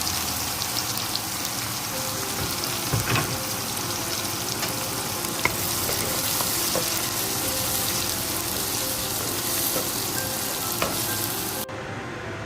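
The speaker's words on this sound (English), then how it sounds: "fried in the bacon oil, the bacon fat. One red onion chop." Chopped red onion fries in bacon fat with garlic, giving a steady, dense crackling sizzle that runs close and even the whole time. A few faint utensil taps sound over it, and there is no talk.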